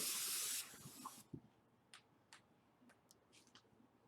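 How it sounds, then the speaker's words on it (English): Brake cleaner sprays in a loud hissing burst for just over half a second while front axle parts on a Ford Focus SVT are cleaned, followed by faint clicks and light ticking knocks. "So we clean all that with brake cleaner"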